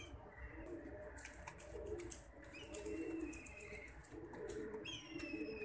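Pigeons cooing steadily in a crowded loft, several birds calling over one another with soft repeated coos and a few chirps.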